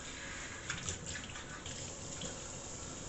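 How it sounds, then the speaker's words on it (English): Bell peppers get rinsed under a running kitchen tap, a continuous, even hiss of flowing water splashing close by, with slight surges as the stream hits the vegetable and no talking. "Give it a good rinse."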